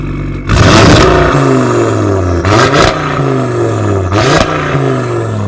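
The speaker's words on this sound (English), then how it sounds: "And this is valves open." A 2021-era Audi RS3 8Y with a full valved AZM exhaust, catless downpipes and the valves open, revved hard in three loud bursts that each rise and fall back to a burbling idle close by.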